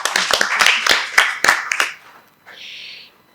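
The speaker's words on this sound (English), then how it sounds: "And another round of applause for Mr." Hand clapping rings out at an awards ceremony, a run of sharp, close claps that fades after about two seconds, followed by a brief quieter sound.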